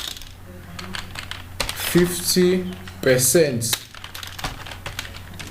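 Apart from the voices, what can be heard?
typing on a computer keyboard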